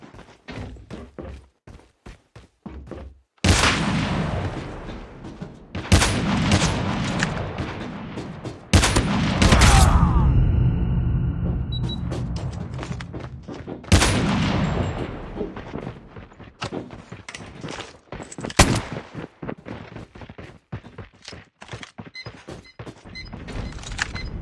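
Video game gun fight with loud bursts of gunfire, sharp single shots and rapid volleys separated by short quieter gaps, close and punchy with echoing tails.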